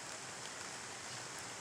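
Rain falls on a rainy late afternoon as a faint, even wash of soft hiss that stays constant without distinct drops or voices.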